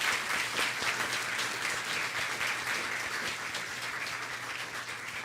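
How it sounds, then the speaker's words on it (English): A church congregation claps warmly for Michael after his summer ministry, a sustained, even wash of many hands at moderate distance, holding steady and easing slightly toward the end, with no voices over it. "one more loving, generous round of applause for Michael"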